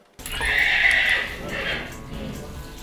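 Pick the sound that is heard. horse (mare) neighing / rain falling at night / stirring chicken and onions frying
horse (mare) neighing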